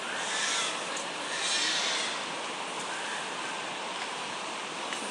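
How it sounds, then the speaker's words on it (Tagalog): Heavy rain pours in a steady, dense hiss that stays fairly even throughout, with slight swells. No one talks. "lakas na ng ulan"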